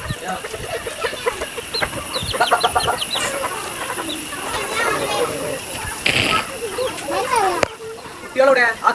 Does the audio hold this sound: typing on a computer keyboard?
no